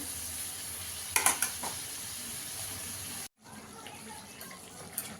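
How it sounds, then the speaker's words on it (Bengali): Chicken frying and being stirred in a pan over a high gas flame gives a steady broadband sizzle, broken by a short burst of scraping stir strokes midway and a brief dropout before the sizzle resumes, with no talking. "চিকেনটা দিয়ে ভালো করে একটু কষিয়ে নেবো, গ্যাসের আঁচটাকে বাড়িয়ে।"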